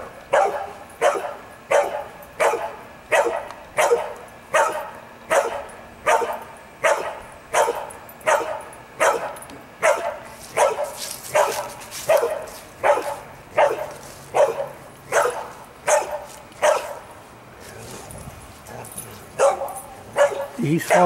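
A dog barks in a steady rhythm of repeated sharp yelps, about twenty in a row, close and loud, while following a person in an outdoor setting with a raccoon nearby.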